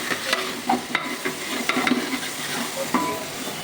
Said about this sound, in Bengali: মশলাটা ভালো করে কষানি পরে